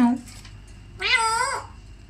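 A tame Alexandrine parakeet gives a single drawn-out, cat-like meow lasting about half a second, heard close after a brief voice.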